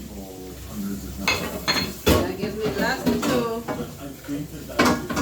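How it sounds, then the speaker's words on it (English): Dishes, pots, pans and cutlery clatter and clink as they are washed in a home kitchen, with close, irregular knocks and scrapes under intermittent talk. "I'm going to knock these other dishes out real quick"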